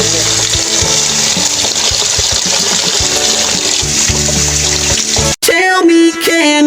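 Water poured and running while washing the foam of an RxR motorcycle helmet: a loud, continuous gushing splash, with a short break and a few ringing tones near the end, and talk underneath.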